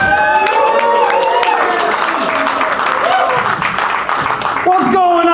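Comedy club audience at the Milwaukee Improv late show applauding and cheering as the host is brought on, a dense sustained roar of clapping and whoops throughout, with a voice shouting over it.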